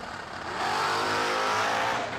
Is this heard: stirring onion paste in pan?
no